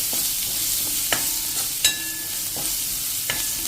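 Chopped onion sautéing in oil over a low flame, a steady soft sizzle broken by a few sharp clicks of a spoon stirring the pan, with no talking.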